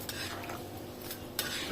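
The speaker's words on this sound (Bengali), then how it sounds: "ভালো করে নেড়ে চেড়ে" Beef fepsa and potatoes stirred in a pot after water is added, giving a steady close scraping and clinking of a utensil against the pot, with a sharper knock near the end and no talk.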